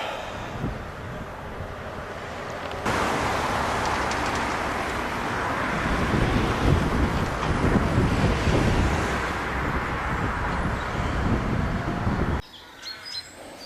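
Strong headwind roars and buffets the microphone steadily on a bike ride along a road in the New Forest, a loud broadband rush that drops away abruptly near the end.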